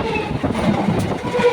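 A local train at Belgharia station on the Sealdah main line rumbles and rattles close by, its wheels clattering steadily over the track in a short, continuous burst.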